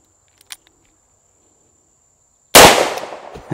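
A single sharp CCI .44 Magnum shotshell blast fired at a range, loud and close after a quiet stretch of faint ticks, with a brief decaying tail.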